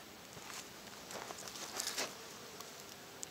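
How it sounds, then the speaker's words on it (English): Honeybees from an opened hive make a thin, steady hiss-like hum, faint and close, with a few brief crackles and taps. No one speaks. "These bees aren't too happy right now"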